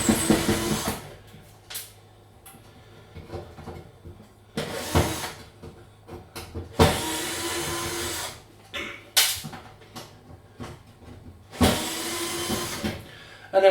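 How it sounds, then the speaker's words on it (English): A powered screwdriver whirs in several short bursts of a second or two each while screws come out of a fan element bracket inside a Hotpoint cooker, with small clicks and handling noises between the bursts. "all you need to do is remove these 2 screws on this bracket and this screw on this bracket here"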